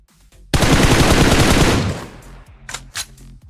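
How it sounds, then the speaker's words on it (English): Rapid automatic gunfire from a PUBG Mobile esports match breaks out as a dense, loud burst lasting over a second, then fades, followed by a couple of short, sharper shots. "Starts taking shots at Junie."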